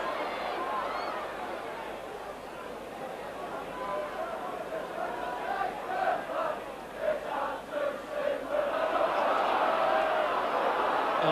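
The crowd of about 11,900 at a Leeds versus Widnes rugby league match keeps up a steady roar and murmur that swells in cheering waves, with a commentator talking over it.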